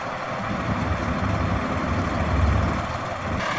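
A 2012 Kenworth T370 flatbed truck idles steadily, a loud, close, unbroken diesel rumble with a hissy edge and no voices.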